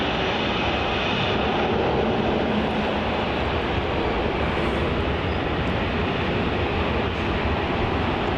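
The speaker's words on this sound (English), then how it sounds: "And looks like we have a little Rex 737 taxiing in here to Terminal 3." A Rex Boeing 737 airliner taxiing at Melbourne Airport toward Terminal 3 gives a steady, broad jet-engine roar that holds at a constant level throughout, with no voices over it.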